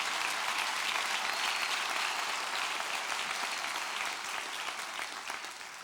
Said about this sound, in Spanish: Dale el aplauso al Señor ahí donde está.